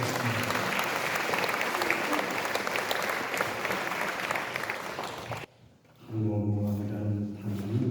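Crowd applause at a commemorative association event welcoming its president, a pastor, to give an address; dense steady clapping that cuts off abruptly, followed by someone speaking.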